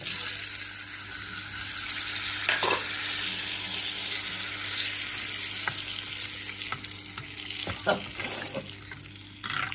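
Spices tempering in hot oil for a curd masala curry give a steady, loud sizzle and crackle throughout, with scattered sharper pops and a few stirring scrapes near the end.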